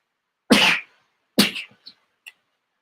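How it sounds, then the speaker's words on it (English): A single sharp sneeze bursts out close by, followed by a second smaller expulsion and a couple of faint breathy sounds afterward. "I think I'm about to sneeze."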